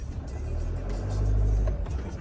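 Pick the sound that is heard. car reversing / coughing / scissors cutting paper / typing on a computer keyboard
car reversing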